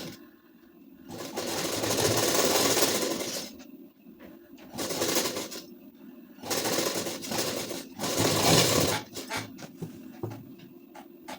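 A sewing machine runs straight fitting seams on a ladies suit, stitching in several bursts of whirring and clatter separated by short pauses.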